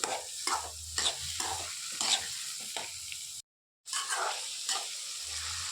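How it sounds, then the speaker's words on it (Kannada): Chopped beetroot being stirred into frying onions in a pan, with repeated scraping strokes of a spoon over a soft steady sizzle, close and fairly quiet, with a brief dropout midway. "ಕಟ್ ಮಾಡ್ಕೊಂಡಿರೋ ಬೀಟ್ರೂಟ್ ಹಾಕ್ಕೊಳ್ತೀನಿ. ಈರುಳ್ಳಿ ಜೊತೆ ಮಿಕ್ಸ್ ಮಾಡ್ಕೊಳ್ತೀನಿ."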